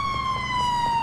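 A police car in the video game GTA IV sounds a steady, high, sustained siren tone, loud and close, with no voices over it.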